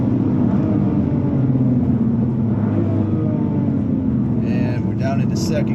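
Low, loud engine rumble from a 2019 BMW M2 on a track lap, running continuously beneath a man's close-up talking.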